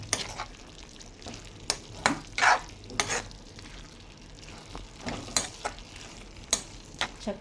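A spoon stirs an ivy gourd and tomato curry in a pan, giving repeated scraping and clinking strokes over a low sizzle, moderately close with no talking.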